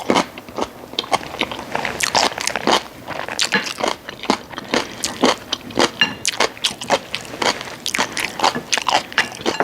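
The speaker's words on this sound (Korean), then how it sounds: "이거는 깍두기하고 한번 먹어볼까?" Close, loud crunching bites of kkakdugi radish kimchi eaten with abalone rice cooked in a cauldron, the crisp chews repeating steadily in a quick, uneven rhythm with no talking.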